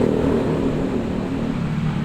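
Steady low humming drone from a moving car with a worn wheel hub bearing, a continuous rumbling whine with road noise underneath, no voices.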